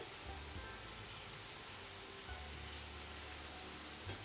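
Pantua, semolina sweet balls, frying in hot oil, with a steady close crackling sizzle like light rain that runs without a break, no voices.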